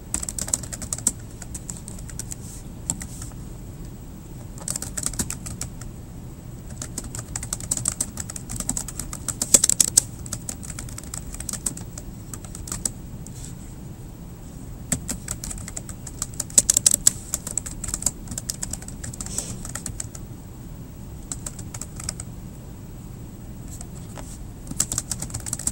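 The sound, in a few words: typing a question on a computer keyboard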